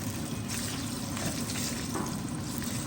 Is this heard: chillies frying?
yes